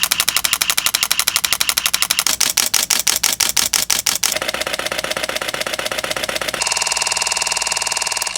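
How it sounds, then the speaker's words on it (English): A Sony A7V's mechanical shutter fires in rapid continuous bursts, crisp clicks repeating steadily at several different frame rates, close and loud with no talking. "I actually like the mechanical shutter sound that comes out of the Sony A7V"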